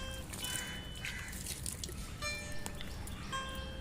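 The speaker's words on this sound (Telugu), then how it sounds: "ఇలా కొంచెం పైన వాటర్ జల్లుతూ ఉండాలి ఫ్రెండ్స్" Water is sprinkled over chrysanthemum cuttings planted for rooting, making faint, soft drips and light patters spread irregularly over a quiet outdoor background, with no talking.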